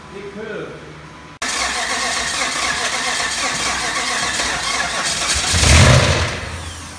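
An overheated Jeep Hemi LJ engine cranks and catches, then runs loud and close with a rough, clattery internal knock and a brief rev swell near the end; a voice speaks over it.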